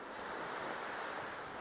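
Sea waves break and wash steadily at a beach in Santa Cruz, a continuous close, loud roar of surf with wind rumbling across the microphone and no speech.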